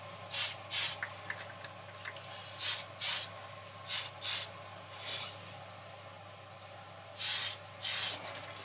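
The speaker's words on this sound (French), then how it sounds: "à la bombe, c'est très rapide. Hein. 2 pulses et puis ça y est." Spray can laying black paint onto a Lamborghini Sesto Elemento scale model, short hissing bursts that come mostly in pairs with quiet gaps between them, close by.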